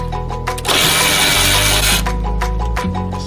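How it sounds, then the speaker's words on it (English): A power tool works on the bolt at the bottom of a factory strut on an RS3. A short, loud whirring burst sits between brief mechanical clatters. "removing the bolt out of the bottom of the factory strut."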